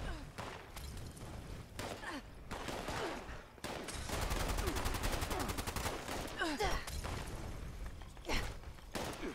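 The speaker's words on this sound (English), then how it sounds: "a 3-star laser pistol." A laser pistol fires repeatedly in Fallout 76 during a fight with a deathclaw, making rapid bursts of zapping shots amid game effects and a voice talking.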